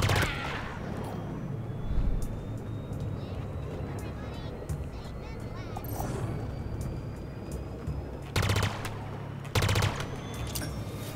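A pulse carbine firing in Halo Infinite on Legendary difficulty, heard as rapid bursts of weapon fire over a steady layer of game noise, with two sharp, loud bursts near the end and a voice talking throughout.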